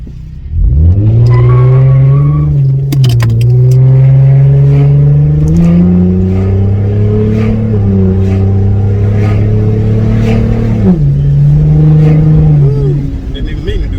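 A car back on the road after repairs accelerates hard, the engine revving loud and close in a long rising drone that climbs, dips as it shifts and climbs again, while someone talks over it.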